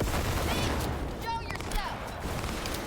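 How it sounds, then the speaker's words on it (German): Gunfire from a sniper rifle shooting through walls in the game Cyberpunk 2077, a few sharp shots among a busy mix of game noise and effects, fairly close. "Sniper können immer durch Wände schießen"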